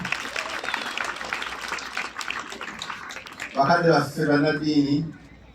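Audience clapping for senior pupils at a Seeta Junior Schools gathering: a few seconds of steady mid-distance applause, then a voice takes over and speaks alone.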